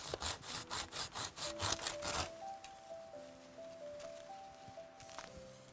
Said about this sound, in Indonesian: Bukan cabang sembarangan. Harus digergaji. Kalau dengan golok takut bambunya banyak lukanya.